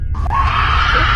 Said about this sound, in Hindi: एक बार फिर से बाहर से चीखने चिल्लाने की आवाज आने लगती है।